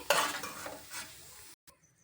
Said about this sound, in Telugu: ఈ విధంగా మిల్ మేకర్లు గోల్డ్ కలర్ వచ్చిందనుక కనుక వేయించుకొని తీసుకోవాలండి